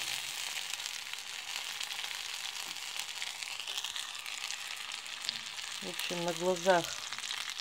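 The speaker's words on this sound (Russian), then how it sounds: "Чуть-чуть пожарится и яйца добавляем." Purple asparagus beans frying in a large pan, a steady broadband sizzle throughout, with a few stirring scrapes near the end and a brief spoken phrase.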